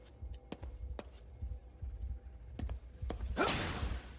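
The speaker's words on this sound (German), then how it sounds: "Dieses Herzklopfen hier mal." A thumping heartbeat from the video game Ghostwire: Tokyo pulses in soft, regular low beats over a quiet hum, ending with a brief whoosh.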